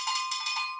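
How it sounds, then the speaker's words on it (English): An agogô, a double bell of two welded metal bells with a larger low-pitched bell and a smaller high-pitched one, rings out alone in bright sustained tones with a few quick strokes fading over a second. "So when I play the agogô, you'll be able to hear those two pitches going back in a samba rhythm."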